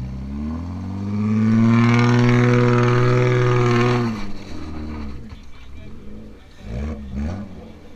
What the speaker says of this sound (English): Now gas it and go to the left.